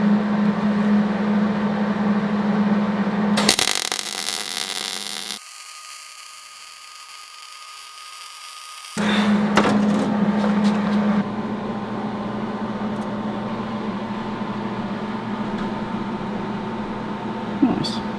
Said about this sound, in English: Now I just have to weld it up fully.